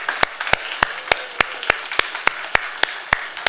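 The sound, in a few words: congregation applause of thanks in church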